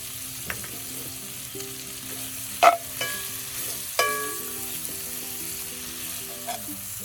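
Breakfast hash sizzles and fries in butter on a cast-iron Lodge Sportsman grill over a rocket stove, a steady crackling hiss close by, broken by a few sharp scraping stirs.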